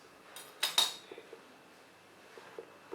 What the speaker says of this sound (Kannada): ಈ ಬ್ರೆಡ್ನ ಈಗ ನಾನು ಟ್ರಯಾಂಗಲ್ ಶೇಪಲ್ಲಿ ಕಟ್ ಮಾಡ್ಕೊತಿದ್ದೀನಿ